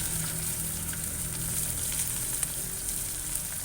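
Onions sizzle in hot mustard oil in a pan over an open flame, giving a steady, dense crackling hiss with small pops scattered throughout.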